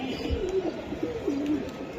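A pigeon coos in a few soft, wavering calls close by, over a low background and faint murmured voices.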